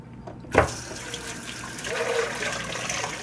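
Kitchen tap running water into a sink while the last dish is washed, a brief knock then a steady close splashing stream that grows fuller toward the end.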